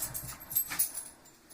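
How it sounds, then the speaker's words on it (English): Puppies whimpering and yipping softly in the background, a faint restless run of small cries and snuffles with no speech. "the noises in the background is my beautiful little puppies"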